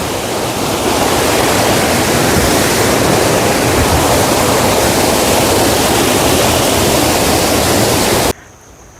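A waterfall in the forest of the Karre hills roars as a loud, dense, continuous rush of water for about eight seconds, then cuts off abruptly.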